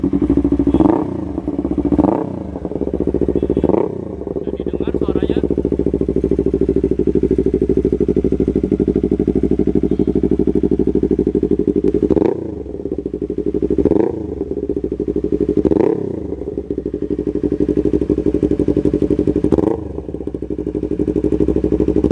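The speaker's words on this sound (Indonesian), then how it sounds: "Sekarang kita coba nyalain mesin motor ini kayak gimana ya suaranya." A Yamaha R25 motorcycle engine idles with a loud, steady rumble, punctuated by several sharp revs in bursts, close by and without speech.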